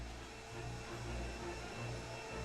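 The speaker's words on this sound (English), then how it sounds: "Why are they vacuuming the hallway?" A vacuum cleaner drones steadily in a hallway just outside the room. The low, muffled hum swells slightly, heard through a wall without any voices.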